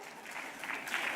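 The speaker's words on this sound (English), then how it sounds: "I would appreciate some applause" Scattered applause from an audience at an educational leadership summit, brief and fairly light, swelling slightly toward the end.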